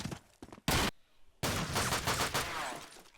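Gunfire in a Counter-Strike style video game match cracks out in a few sharp, loud shots followed by a rapid dense burst of firing.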